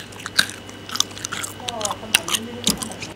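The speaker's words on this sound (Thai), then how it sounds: "โอ้เป็นเม็ดแบบนี้นะเราจะมากินเลย มันก็ไม่ได้กรอบมากนะแม่" Someone bites and chews a small round Thai candy pellet, with a few close crunchy bites and moist chewing. Short bursts of talk come in between the bites.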